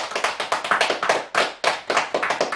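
A run of sharp hand claps, steady and fairly quick, close and loud with a short gap midway, no talking over it.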